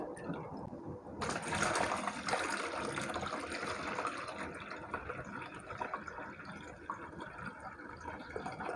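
Rinse water pours off washed lentils, a steady close splashing and gurgling rush that begins abruptly and runs continuously without voices.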